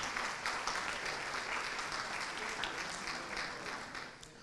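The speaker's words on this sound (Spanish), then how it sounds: "un fuerte aplauso también para nuestro tercer invitado" An audience at a smart-cities panel session gives a guest a steady, dense round of applause, many hands clapping evenly throughout before easing slightly at the end.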